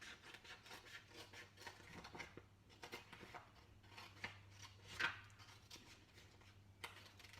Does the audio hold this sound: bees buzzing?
no